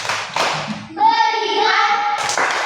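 A classroom of pupils and their teacher clap along in the 'tepuk fokus' clap routine, with a burst of claps, a stretch of chanting voices, then another round of clapping close by.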